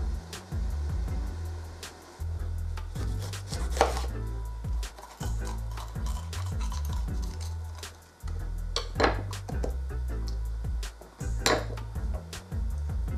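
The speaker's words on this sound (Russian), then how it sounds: "У каждого перчика срезаю крышечку" Knife chopping through bell peppers on a cutting board as their tops are sliced off, a steady run of close, crisp cuts and thuds with occasional clinks of kitchenware.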